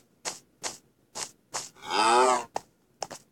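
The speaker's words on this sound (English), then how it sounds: "Oh yeah, and here's the cow." A cartoonish cow in a city-building video game gives one long drawn-out moo, set between several short, evenly spaced clicky game sounds, all clear and close.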